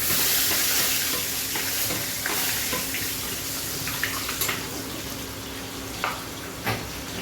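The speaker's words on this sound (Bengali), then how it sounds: "তেলটা গরম নিয়ে আছে, এর মধ্যে তেজপাতা ফোড়ন দিলাম, শুকনো লঙ্কা, গোটা গরম মশলা।" Bay leaf, dry red chillies and whole garam masala crackling in hot oil in a pan, a loud continuous sizzle with occasional sharp pops and a few clinks of a spoon.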